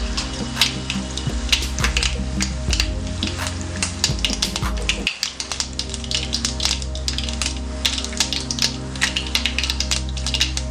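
Mustard seeds hitting hot coconut oil in a kadai, a dense continuous crackle of tiny pops and sizzle, close and steady throughout with a brief dip midway, no talking.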